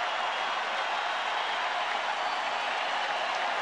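A large stadium crowd at the 1992 World Series roars and applauds steadily, urging the pitcher toward a strikeout as a distant, even wash of cheering with no pauses.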